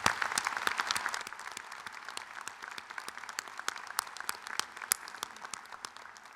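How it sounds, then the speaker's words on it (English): A crowd at a college nursing graduation ceremony applauds steadily, many hands clapping at once in a continuous patter that fades slightly toward the end. "Please join me in congratulating them with a round of applause."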